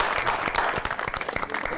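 A studio audience claps for a guest's entrance on a Pakistani talk show, a short, dense burst of applause that carries steadily for under two seconds without speech.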